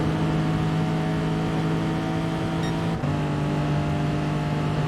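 Racing cars in a video game roaring down a straight, a continuous dense engine drone with steady pitch and a brief dip partway through.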